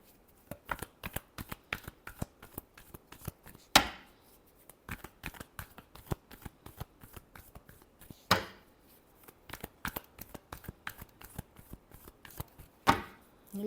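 Tarot cards shuffled by hand, quick crisp riffles and taps repeating close up, with a few sharper slaps where the deck is squared, and no one speaking.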